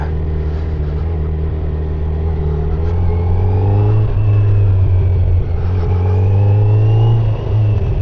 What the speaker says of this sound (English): Wow, I love the inline four, man.